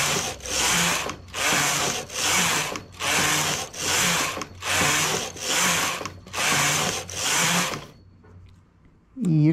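A knitting machine working a zipped blouse: nine rhythmic carriage passes, each a loud broadband whoosh-clatter lasting about a second, evenly spaced, then the mechanism stops and a faint clunk follows near the end.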